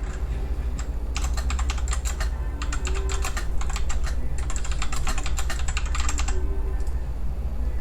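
Rapid bursts of typing on a computer keyboard while entering text into an online lost-and-found system, clicking in several clusters separated by brief pauses over a steady low hum.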